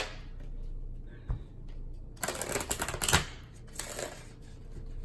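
A wisdom chakra oracle card deck being shuffled, with a few bursts of riffling and flicking cards after a quiet start, close and fairly soft.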